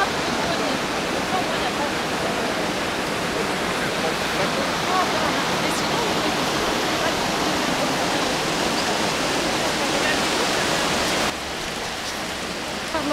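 A waterfall in the Alps roars as a steady, loud, unbroken rush of falling water, with faint voices barely showing beneath it.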